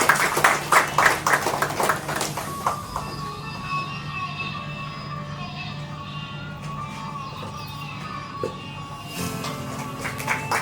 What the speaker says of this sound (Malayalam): എല്ലാവരും നല്ലൊരു കൈയടി കൊടുക്കണം.